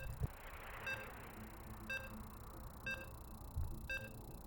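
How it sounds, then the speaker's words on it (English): Short electronic beeps repeat about once per second while loading into a StarCraft 2 match, faint and evenly spaced over a noisy rumbling background. "As you can hear the beeps."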